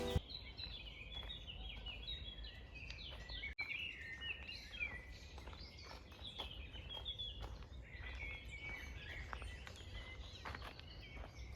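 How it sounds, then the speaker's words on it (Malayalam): Birds singing in a Swiss forest, a busy chorus of chirps and trills from several birds at middle distance, steady and fairly quiet over soft background hush, with no talking. "കിളികളുടെ സൗണ്ടൊക്കെ നമുക്ക് നല്ല സൂപ്പറായിട്ട് കേൾക്കുന്നുണ്ട്."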